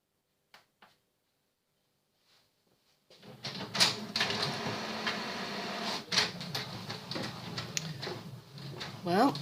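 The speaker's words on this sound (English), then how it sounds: "I will print in my printer." An inkjet printer feeding fabric and printing runs with a steady mechanical whir and rattle, broken by clicks and sliding print-head passes, after a few seconds of near silence with small handling taps.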